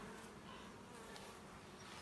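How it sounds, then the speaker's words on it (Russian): A steady, dense buzzing of many bees flying close by at an apiary hive, continuous and fairly loud, with no voices. "Пчелы летят."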